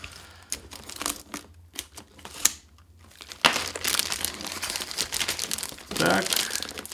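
Packaging of a Sony video-blogger camera kit with an FDR-X1000VR action camera is opened and unwrapped, giving sharp crinkles and tearing rustles in bursts, with a quieter gap midway and denser crumpling afterward. No words are spoken.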